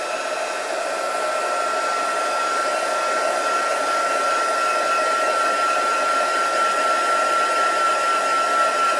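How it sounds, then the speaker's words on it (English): A heat tool blows hot air gently from a distance onto a craft project, making a steady, loud whirring drone with a faint high whine that runs unchanged throughout. "I'll just blast it with my heat tool very gently"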